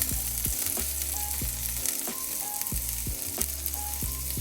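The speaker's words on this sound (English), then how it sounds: "We're going to start with our onions first and cook these until they're translucent." Onions frying in a skillet, a steady close sizzle with rhythmic scraping strokes from stirring, with no talking.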